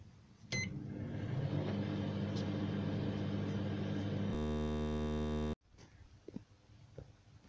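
A microwave oven loaded with bowls, set to heat for 20 minutes, starts with a click and runs with a loud, steady hum for about four seconds. A buzzing tone follows and cuts off abruptly, leaving faint clicks in near silence.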